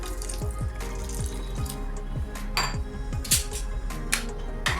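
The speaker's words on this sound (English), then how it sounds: "Add some water depending on the consistency of the gravy you want." Water pours and splashes into chhole masala gravy in a kadai, with clinks of a utensil against metal, steady and close, with no voices.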